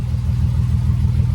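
A 1960 Jaguar MK2 engine runs after a gas tank swap and ignition update. Its deep, loud rumble carries a steady low throb, recorded close up with no one talking.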